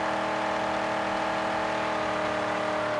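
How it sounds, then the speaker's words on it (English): Car engine in the Mad Max video game roars steadily at high revs, a loud continuous drone with a constant whirring tone and no speech over it. "what's Mad Max without roaring engine sound?"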